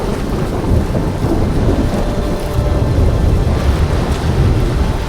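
A thunderstorm delivers steady, loud rain hiss with low rolling thunder rumbling throughout, continuous and dense with no voices.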